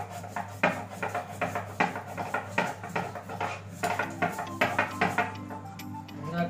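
Something is ground by hand on a shil nora grinding stone, making a steady, rhythmic rasping and rubbing that is close and fairly loud, with no voices.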